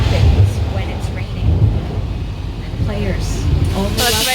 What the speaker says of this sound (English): Uh-oh, that was thunder.